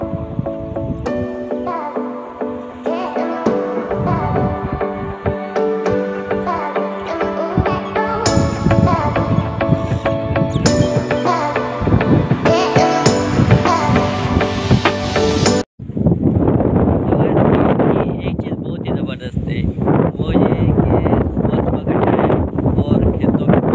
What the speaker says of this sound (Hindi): आज भी बहुत ज़्यादा तेज़ हवा चल रही है